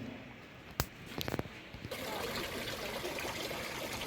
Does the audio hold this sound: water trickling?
yes